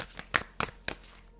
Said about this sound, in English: I'm going to shuffle and I'm going to pull two cards.